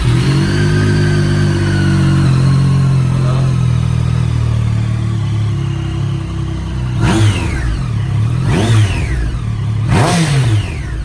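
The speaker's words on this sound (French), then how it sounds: "dernier démarrage avec le pot d'origine" A motorcycle with its stock exhaust idles loudly and close, then gets three sharp revs in quick succession, each rising and falling in pitch.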